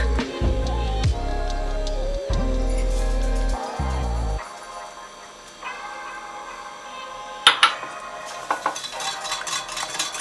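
Pancake batter with sugar and milk being mixed in a bowl, with rhythmic whisking and scraping against the bowl, some low hum early on and several sharper clinks of the utensil near the end.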